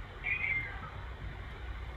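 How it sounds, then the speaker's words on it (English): A single drawn-out meow rings out near the start, fairly close and clear, then fades into a quiet low background rumble. "I'm sorry for my cat screaming in the background."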